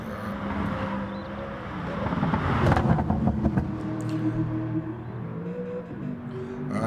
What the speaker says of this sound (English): I do believe I hear an Aston Martin out on the track.